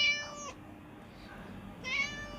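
A cat gives two short meows about a second and a half apart, close and clear, with quiet room tone between them.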